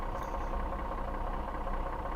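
A Caterpillar truck engine idles in an Alaska driving video game, a steady low rumble with a faint rhythmic throb that stays even and close for a couple of seconds, with no voices.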